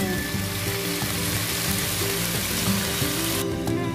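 Tuna frying in a pan with malunggay and upo gives a constant loud sizzle and crackle, close and unbroken, with no voices.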